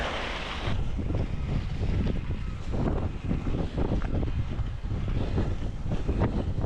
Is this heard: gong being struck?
no